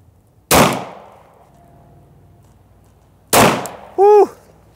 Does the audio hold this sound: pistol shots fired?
yes